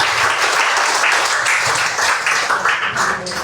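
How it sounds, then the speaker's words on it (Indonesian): An audience at a morning gathering gives a sustained round of applause for Pak Wayan, a continuous, fairly loud wash of many hands clapping together without speech. "Sekali lagi boleh tepuk tangan buat Pak Wayan."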